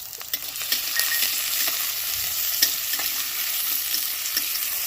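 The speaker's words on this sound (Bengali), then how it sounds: "পেঁয়াজটাকে না পুরো ব্রাউন করে ভেজে নিতে হবে" Onions fry in a pan, browning for Afghani chicken, giving off a steady bright sizzle. Occasional clicks and scrapes of stirring sound close by, with no one talking.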